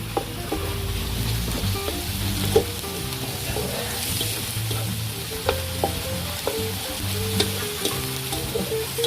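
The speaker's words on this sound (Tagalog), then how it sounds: "Lutuin muna natin mga kabayan ang ating giniling." Ground pork sizzles and fries steadily in a pan, a loud continuous crackle with frequent scraping stirs and utensil knocks throughout.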